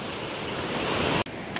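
A rushing forest stream with foaming white water makes a dense, steady roar close by, with a brief dip in the sound near the end.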